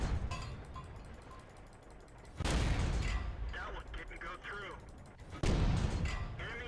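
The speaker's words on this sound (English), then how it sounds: "Use this machine gun cannon on him." Cannon fire from a machine-gun cannon on a tank in the World of Tanks video game: two loud, sharp blasts a few seconds apart over a constant battle rumble, with voices talking beneath.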